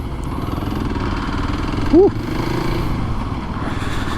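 A Kawasaki KLX 300 dirt bike engine drones steadily and close while being ridden, holding a low, even note throughout, with a brief whooping shout from the rider partway through.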